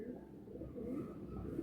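High-flying Giribaz and Madrasi pigeons in a loft, soft low cooing close by and fairly faint over a short stretch.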